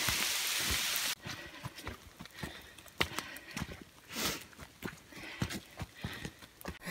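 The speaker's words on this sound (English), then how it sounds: "Sleet, not rain," Ice pellets of sleet patter and tick in a dense, irregular rain against a surface, with sharper taps scattered through, close and fairly loud, on the Appalachian Trail at Max Patch.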